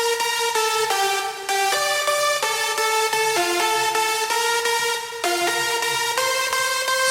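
Five layered synth leads in a progressive house style, some wide and some mono, play a bright, dense plucky melody of quick stepping notes, loud and sustained throughout.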